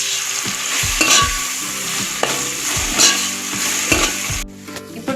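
Ginger paste fries in a pan for chicken pulao under a steady sizzle while a utensil stirs it, its scrapes recurring about once a second, close and clear.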